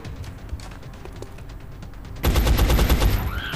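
Gunfire in XCOM: Enemy Unknown, starting as faint scattered shots and then breaking into a loud, dense burst of automatic fire over the last second.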